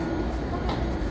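Subway train on Seoul Line 9 from the Hmmsim2 metro simulator game, a steady low rumble and hum of the running train with no break, fairly loud throughout.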